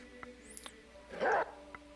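Dog barks from the video game Reigns, a few short yips and one louder bark burst over quiet game music.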